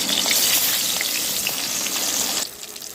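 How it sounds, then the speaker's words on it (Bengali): Katla fish pieces frying one by one in hot oil in a kadai, a steady dense sizzle with crackling pops close up that drops slightly softer near the end. "এবার আমি একে একে মাছগুলো দিয়ে ভেজে নেব।"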